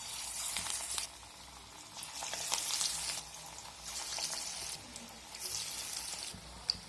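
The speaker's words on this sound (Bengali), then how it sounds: "এখন আমি অল্প অল্প মিশ্রণ নিয়ে পকোড়ার শেপে তেলের মধ্যে দিয়ে দেব" Jackfruit pakoras sizzle in hot refined oil, a steady crackling fry with brighter bursts as batter drops in, close and continuous with no talking.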